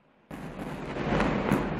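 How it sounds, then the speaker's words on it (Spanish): A bomb blast in Gaza, with a sudden loud onset followed by a sustained rumbling roar that swells and holds for over a second, without voices. "lo hace bajo el ruido de las bombas por quinto día"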